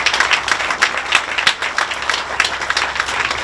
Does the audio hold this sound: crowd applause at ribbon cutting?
yes